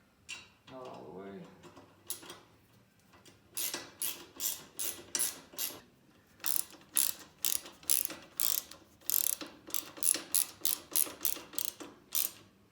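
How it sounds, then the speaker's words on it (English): A ratchet wrench tightening M8 bolts on a KTM 1090/1190/1290 Adventure pannier rack, crisp close clicking in repeated quick bursts of strokes, with short pauses between sets. "Now you can go around and tighten all M8 bolts for each side."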